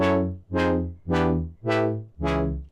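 Five bright synth chord stabs swell and fade in a steady rhythm, each with a swooping filtered effect, played alone with no voices.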